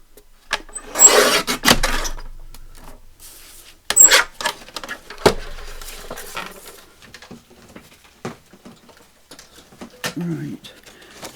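Journal cover material being trimmed, with scattered scraping and cutting strokes and soft rustles, some sharp louder bursts near the start, spread over quiet handling noise.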